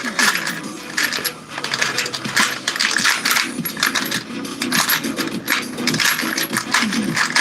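Hands rummaging through a pile of loose bolts and small hardware, with metal parts clinking and rattling against each other continuously and up close.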